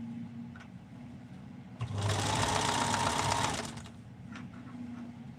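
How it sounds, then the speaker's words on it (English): An embroidery machine stitches in a steady, rapid buzzing hum for about two seconds, starting and stopping abruptly, close and loud over a quiet room. "it's amazing the stuff you can do with an embroidery machine"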